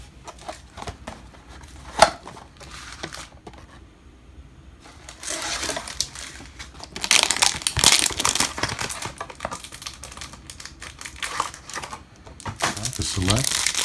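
2021 Select and Optic football trading card packs, including a mega box, hanger and cello pack, ripped open by hand with intermittent crinkling and tearing of the wrappers, close up, punctuated by occasional talk.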